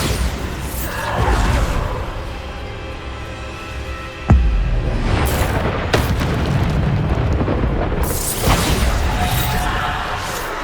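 Bombarda explosion spell in the video game Hogwarts Legacy, several loud booming blasts with crashing debris and whooshes layered over continuous combat noise, one sharp burst standing out near the middle.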